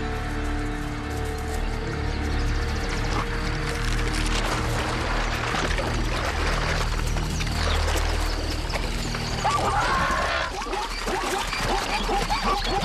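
Water pours and splashes steadily over a restless, overheated elephant in musth, a continuous gushing wash with a low rumbling undertone, loud and close.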